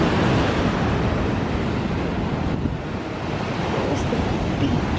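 Ocean waves on the beach at Laguna Beach roar steadily and loudly, with heavy wind buffeting the microphone throughout.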